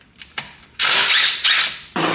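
An 8mm socket wrench loosens a long transmission filter bolt on an S550 Mustang: two faint early clicks, then three loud bursts of dense ratcheting, close up.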